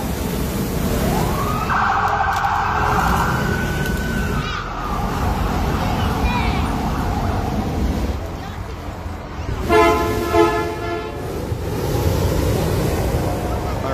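A police car siren leads a balloon festival parade through Rocky Ford, Colorado: a rising wail and steady tone with short horn toots, heard outdoors over loud crowd and street noise.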